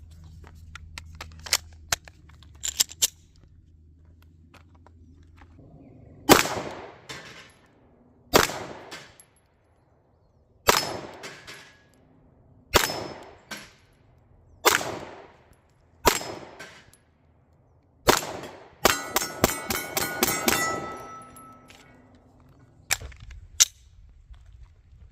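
A Palmetto PSA Dagger Compact pistol fires at bowling pins 15 yards away. Sharp single shots ring out one at a time with pauses between, then a quick string of rapid shots near the end, each crack followed by a short metallic ring.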